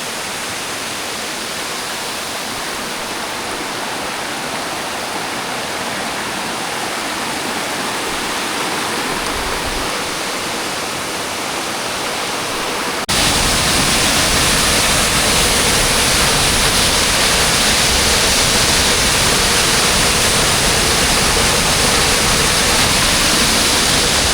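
A waterfall in the Sinharaja rain forest roars as a steady, dense rush of falling water, with no voices. It grows noticeably louder and fuller halfway through, as if heard from much closer.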